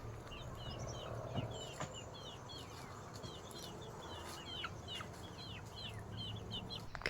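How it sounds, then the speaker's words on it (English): Backyard chickens pecking through pruned tomato stalks make a soft, continuous run of clucks and chirping calls under a steady outdoor hum, fairly faint and with no talk. "I gave the stalks to the chickens. They are quite happy about a little scratching."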